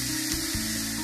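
Cabbage frying in a pan for a Bengali chorchori, a steady soft sizzle with a faint spray-like hiss throughout.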